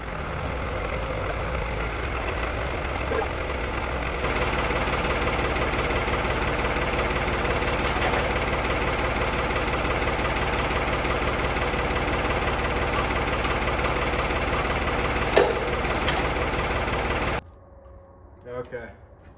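Loader tractor engine running steadily nearby, a constant low rumbling drone with mechanical vibration and clatter that cuts out near the end, leaving faint quiet noises.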